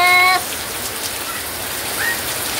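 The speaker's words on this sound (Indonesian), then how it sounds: "Hujan deras, guys." Heavy rain pours down in a steady, dense wash of noise, loud and close throughout, with a brief tonal chirp near the start and no voices.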